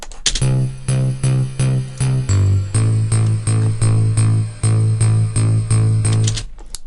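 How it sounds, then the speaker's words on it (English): An EDM bass synth plays a loud, steady run of short repeated notes, with one brief drop in pitch midway, alongside punchy kick hits and no voices. "So our bass sounds like this."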